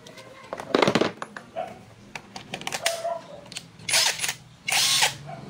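An impact wrench works on the magneto of a Yamaha Aerox V2 scooter in a short series of loud, rattling bursts: a quick pair of hits early, then two longer hammering runs close together near the end.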